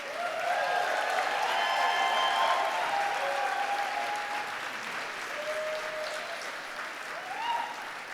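Graduates at a spring university convocation applaud their families, friends, faculty and staff, a steady sustained clapping from a large hall crowd with faint voices and tones mixed in, easing slightly toward the end.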